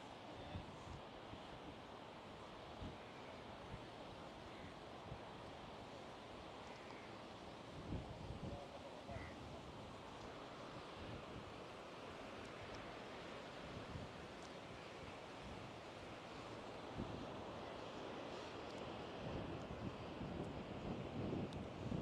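Indian Ocean surf and sea wind at Mombasa beach make a constant low roar with steady buffeting of wind on the microphone, quiet and unbroken throughout.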